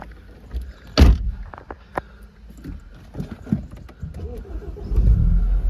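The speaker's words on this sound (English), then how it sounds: "Just start the car up." A petrol BMW Z4 sDrive 2.0 28i M Sport with manual gearbox starts up: a sharp starter burst, then the engine catches and settles into a low idle that swells toward the end, close by with no talk.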